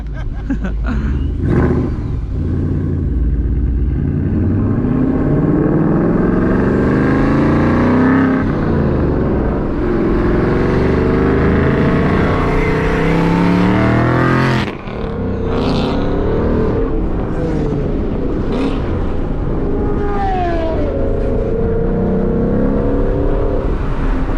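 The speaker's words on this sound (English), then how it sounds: "Dude, your cars are loud now." Boosted Ford Mustangs rev hard and roar past with loud exhaust, engine pitch climbing and dropping through gear changes and a sharp burst midway, continuous and close.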